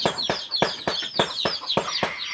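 Chicken chicks peep in a rapid, steady series of short high chirps, close and fairly loud, with no voices over them.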